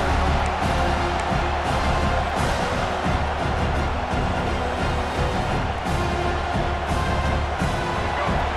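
A steady roar from a stadium crowd in EA Sports College Football 26, a continuous broad wash of cheering and murmur that never lets up, loud and enveloping.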